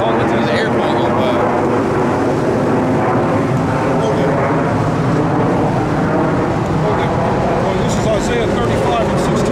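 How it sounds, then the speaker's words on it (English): An airplane drones overhead in a steady, continuous rumble that holds for the whole stretch, with a voice talking over the engine noise. "there's an airplane going by"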